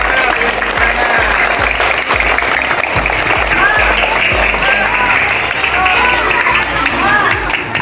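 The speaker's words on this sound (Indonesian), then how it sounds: "Beri tepuk tangan untuk Kecamatan Baros" Crowd applauding the Baros district contingent at a school sports event, sustained loud clapping with footsteps, shouts and babbling voices throughout, a voice speaking over the din.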